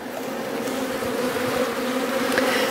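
Honey bees buzz steadily at an open hive on a farm, a dense, close, continuous drone of many insects with no voices.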